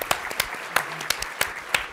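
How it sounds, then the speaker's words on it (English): Applause from a school conference audience, a steady patter of many hands clapping at moderate distance, with sharp louder claps punctuating it regularly throughout. "Give him a round of applause"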